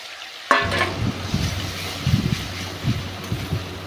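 Tomatoes fry in oil in a wok with a bright sizzle that starts suddenly and holds steady, while a utensil scrapes and stirs at intervals, close and fairly loud, with no talking.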